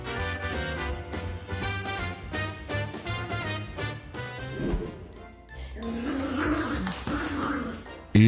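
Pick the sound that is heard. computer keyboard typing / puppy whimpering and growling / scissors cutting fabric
puppy whimpering and growling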